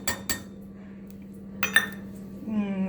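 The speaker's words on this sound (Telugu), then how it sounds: "అన్నీ ఇప్పుడు తీసుకున్న తర్వాత ఏం చేయాలంటే అన్ని వీటిలో వేసుకొని ఇలా దంచుకోవాలి" A few sharp knocks of a pestle pounding garlic and spices in a small mortar for garlic chutney, two quick strikes followed by a pause and then a couple more clinking hits, close and distinct, with a steady hum beneath.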